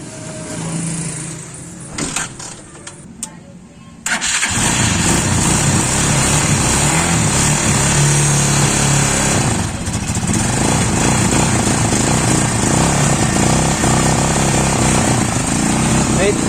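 A motorcycle engine with the choke on starts after a quiet stretch of scuffling and clicks, then runs loud and buzzing near the microphone for the rest of the clip while people talk over it.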